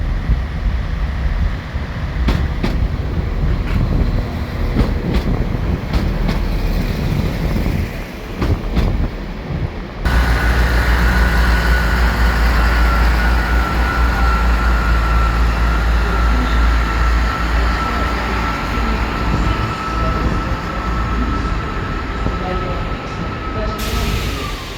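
New two-carriage train at Shrewsbury station platform 3, a loud rumbling roar with hiss and wind noise, the sound jumping to a steady heavy drone with a high whine partway through, with speech in the background.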